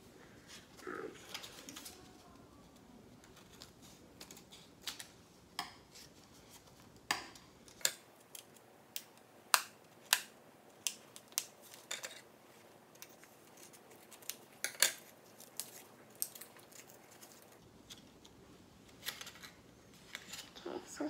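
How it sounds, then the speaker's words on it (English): Scissors cut open a tablet package with a series of sharp snips and crinkles at an irregular pace, close and fairly quiet, with a few pauses between cuts. "So I'm gonna grab a scissors really quick and then open it up."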